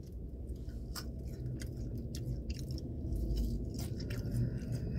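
Close, crunchy chewing and biting of fries and chicken tacos at a Mexican grill, a steady run of soft mouth sounds over low background noise, with no talking.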